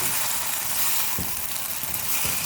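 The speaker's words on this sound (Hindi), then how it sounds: "चिकन को हमने प्याज जिंजर गार्लिक पेस्ट में फ्राई कर लिया।" Chicken fries in onion, ginger and garlic paste with a constant close sizzle, punctuated by a few soft stirring knocks.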